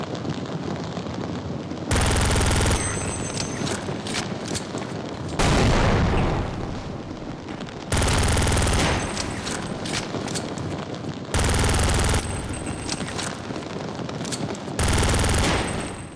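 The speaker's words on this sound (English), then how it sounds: "Last but not least is the Glock, which now, instead of a burst mode, has a fully automatic mode, making it a cheap submachine gun substitute." A Glock pistol firing fully automatic in the Counter-Life mod video game, several loud rapid bursts of gunfire separated by short pauses, with constant game background noise between them.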